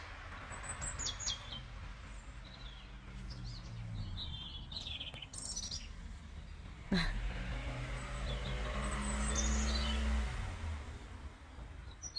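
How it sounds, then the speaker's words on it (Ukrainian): Birds chirp and trill outdoors at moderate distance, with a car passing and traffic rumbling in the background. "відчиняю двері і чую цей спів пташок"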